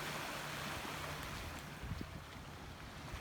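Ocean waves washing onto the shore, a continuous broad rush of surf mixed with wind buffeting the microphone, with no voices.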